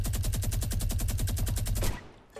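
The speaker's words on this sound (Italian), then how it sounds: "c'è qualcuno che spara" A rapid, even burst of automatic gunfire in Fortnite, about twenty close shots that stop abruptly and leave a short quiet tail.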